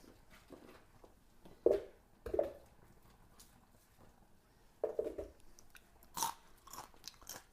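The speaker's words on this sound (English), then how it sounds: "Crunch it on my celery while I do that." A stalk of celery is crunched in the mouth while a smoothie is made, several crisp chewing bites in irregular bursts, close up and fairly quiet, with no talking.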